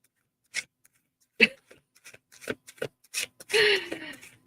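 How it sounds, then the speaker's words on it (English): A tarot card deck being shuffled by hand, with soft scattered riffles and card flicks spread through the clip, then a brief louder flurry as cards slip out. The sounds are close and light, with no speech over them. "I was just shuffling my deck and it flew out."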